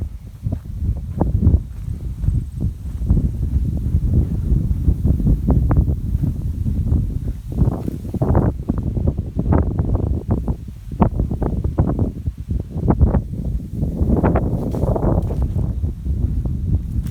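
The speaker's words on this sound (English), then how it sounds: "She's a windy one here in Sask." Gusty wind buffets the microphone outdoors in Saskatchewan in low, rumbling bursts that rise and fall unevenly, loud and close, with no voices.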